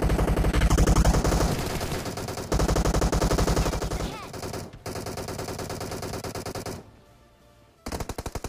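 Rapid automatic gunfire from PUBG Mobile, played on a Lava Z6 phone, comes in loud, dense rattling bursts with short pauses, fading briefly before a final burst.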